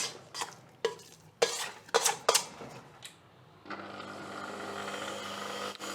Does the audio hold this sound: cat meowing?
no